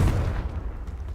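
Confringo blasting spell exploding in Hogwarts Legacy, a single short, deep burst that thumps hard at the start and quickly fades into a low rumbling tail.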